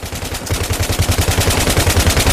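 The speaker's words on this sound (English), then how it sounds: "You have a lot of friendlies firing at the enemy at the same time" Friendly soldiers firing in the Battlefield 3 video game, rapid sustained automatic gunfire in a steady rhythm of bursts, loud and close, with no speech over it.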